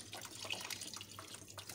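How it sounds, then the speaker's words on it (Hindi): Water is poured into a pot of rice for pulao, a short, faint, steady splashing trickle. "अब मैं इसके अंदर पानी शामिल कर रही हूँ"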